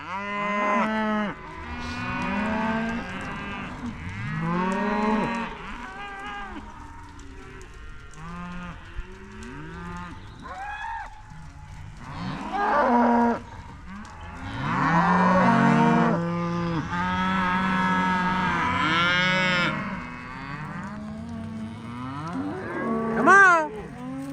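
Several cattle, Mashona/Angus heifers and cows, mooing repeatedly, long low calls overlapping at close range, some louder and higher-pitched, with brief pauses between.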